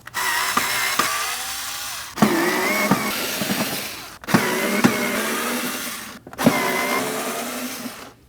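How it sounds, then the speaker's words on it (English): A power screwdriver whirs in four separate bursts of about two seconds each, backing screws out of the inner fender liner on a 2011-2016 Kia Optima, close and alone. "Next up, we have these 4 screws."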